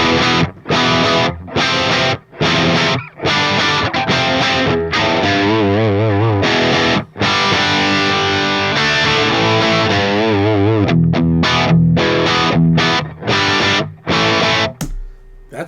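Heavily distorted electric guitar through a Celestion Vintage 30 speaker cabinet, close-miked and loud, playing rhythmic chugging chords with sharp stops, then longer sustained chords, and returning to choppy palm-muted bursts.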